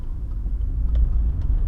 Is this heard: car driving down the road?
yes